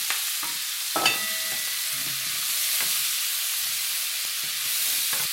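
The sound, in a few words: potatoes frying and stirred in pan for steak stir fry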